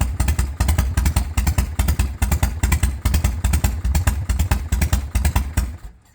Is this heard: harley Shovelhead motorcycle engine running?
yes